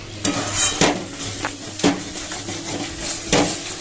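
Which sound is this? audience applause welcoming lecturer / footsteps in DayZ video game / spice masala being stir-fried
spice masala being stir-fried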